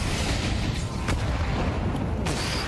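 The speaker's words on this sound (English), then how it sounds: "Big nade" A grenade blast in a Counter-Strike esports match: loud, dense rumbling explosion texture filling the clip, with a couple of brief sharp cracks cutting through, no talk over it.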